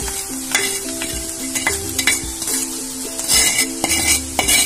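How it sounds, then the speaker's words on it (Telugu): Fried chicken and masala stirred in a pan for chicken poha sizzle steadily while a utensil scrapes and knocks against the metal in a loose, repeated rhythm, close and fairly loud. "ఇప్పుడు దీంట్లో మనం ఫ్రై చేసి పెట్టుకున్న చికెన్ వేసేద్దాము."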